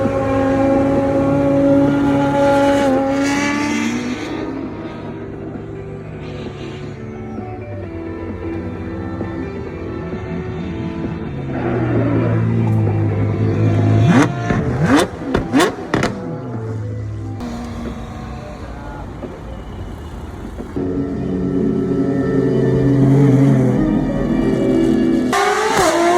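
A Toyota Gazoo Racing car driven by Yuki Tsunoda at the Goodwood hillclimb, its engine rising in pitch as it accelerates, with a burst of sharp revs and gear changes midway, loud and continuous throughout with no talk.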